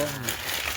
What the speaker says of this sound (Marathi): गरम मसाला वगैरे टाकलेले कागद